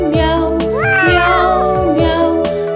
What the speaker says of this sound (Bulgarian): Котенцето малко тихичко мяука, мяу.